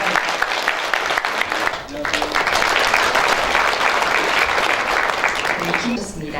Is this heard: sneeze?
no